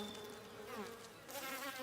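A close, continuous buzzing of many bees swarming as they fight near an empty hive, droning steadily with shifting pitch throughout.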